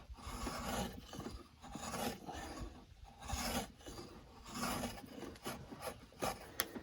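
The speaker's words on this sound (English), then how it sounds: "you can do some fine work with a draw knife." A draw knife shaves wood on a small timber-frame piece, producing rhythmic rasping strokes that swell and fade in repeated passes, quiet and close with no talk.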